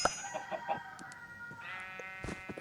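A rooster crows in the Minecraft video game: a single drawn-out, tonal game-sound crow, fairly quiet, with a few soft clicks around it and no talking.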